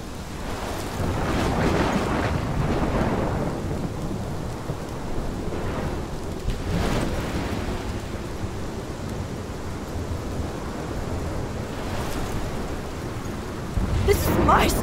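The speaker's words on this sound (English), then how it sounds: "This is my storm." Thunderstorm with heavy rain in the video game Life is Strange: dense, steady rainfall with rolling thunder swelling several times and a sharper crack near the end, loud and continuous.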